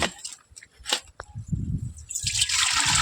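Water is poured into a clay pot for a coconut-palm pest trap, giving an uneven splashing trickle that surges and fades before a steady gushing pour, with faint background voices.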